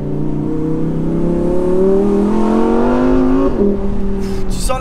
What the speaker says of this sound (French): Ouah, cette boîte de vitesse.